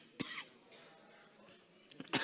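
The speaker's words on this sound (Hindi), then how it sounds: "गुरुदेव थोड़ा मुझे खांसी हमेशा आती रहती है" A man with a persistent cough coughs a couple of times, short sharp bursts near the start and end, quiet and close in a hushed room.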